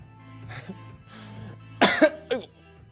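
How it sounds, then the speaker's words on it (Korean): A voice murmurs softly in Korean, then a sudden harsh cough bursts out, followed by a smaller second cough, close and loud. "이렇게 기침이 나오네요"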